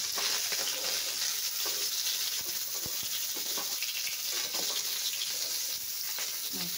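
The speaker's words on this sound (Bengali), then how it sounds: "আমার এবার হয়ে গেছে সব মাছগুলো ভাজা" Shol fish fry in hot oil in a pan, giving a loud, continuous hissing sizzle with scattered pops and crackles, heard alone at close range.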